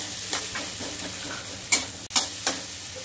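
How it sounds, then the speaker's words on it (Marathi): Ginger garlic paste hits hot oil in a pan, giving a soft continuous sizzle punctuated by several short scraping stirs and a couple of louder clacks. "अद्रक लसूणची पेस्ट टाकून घेऊया."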